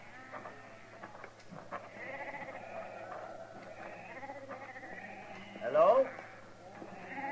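Sheep bleat intermittently on a farm in a western drama, with one louder bleat near the end, under a man's spoken dialogue.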